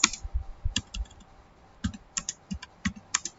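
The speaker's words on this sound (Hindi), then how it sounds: "तो मैंने यहाँ पे ये टाइपिंग कर दी है" Someone types on a computer keyboard during a word processing lesson, producing irregular bursts of close, clicky keystrokes with a short pause in the middle.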